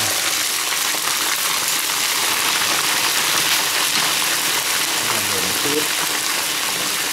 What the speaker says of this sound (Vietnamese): bây giờ sẽ bắt đầu à, à, chiên giòn lên nhé mọi người nhá